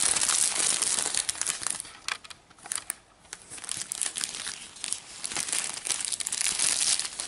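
A paper booklet packaged with a Marvel book is opened up close, with crisp crinkling and rustling in bursts and a brief lull midway.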